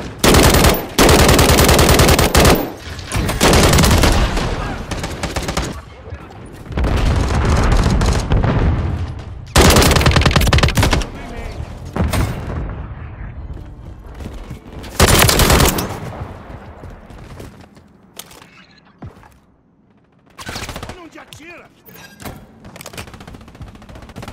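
Heavy machine gun fire from the video game Battlefield 2042, loud sustained bursts with short pauses, mixed with booms and explosions across a long battle sequence.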